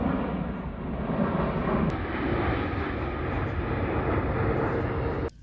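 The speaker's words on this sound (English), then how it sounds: "So we got planes here, planes flying by" A jet airplane roars steadily overhead at Kew Gardens, London, on a hot summer day, a broad, loud rumble that holds for several seconds before cutting off abruptly.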